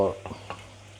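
Chicken malai karahi with cream is stirred in a pan over high flame: a few soft scraping strokes and light sizzle over a steady low hum.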